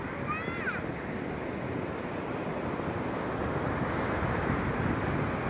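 Evening ocean surf at Peunaga Pasi beach, a continuous broad wash of waves blended with wind buffeting the microphone, steady and fairly near, with a brief faint chirp early on and no talk.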